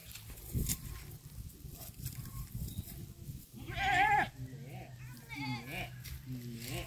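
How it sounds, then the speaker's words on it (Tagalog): Goats on a farm bleat in several loud, wavering cries close by, with people talking quietly in between and underneath the calls. "Yan yung ganda ng kambing nila"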